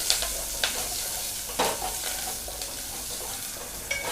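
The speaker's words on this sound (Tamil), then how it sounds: "சின்ன வெங்காயம் நல்லா வதக்கிக்கணும்." Shallots sizzle and fry in a pan for sambar, a steady crackling hiss broken by a few sharper stirring scrapes, close and fairly loud with no talking.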